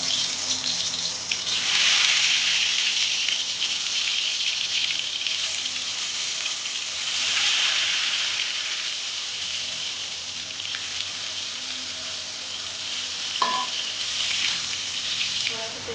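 Potatoes dropped into hot oil in a wok set off a loud, continuous hiss that swells and eases in waves, with a faint clink near the end.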